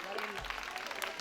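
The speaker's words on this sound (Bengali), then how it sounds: "স্যারের জন্য একটা জোর করতালি।" Brief, fairly faint clapping from a university gathering audience greeting the registrar, partly overlapped by a speaking voice.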